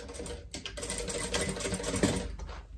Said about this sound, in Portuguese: eu venho aqui pra minha máquina. E vou costurar